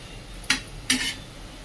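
Two quick scraping clinks from a spoon stirring chopped onion and bottle gourd for zunka in a metal pan, each short and bright, close by in an otherwise quiet kitchen.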